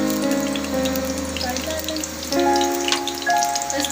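Whole spices frying in a pan for chicken qorma, giving a steady, close sizzle and crackle that runs the whole time and swells louder partway through.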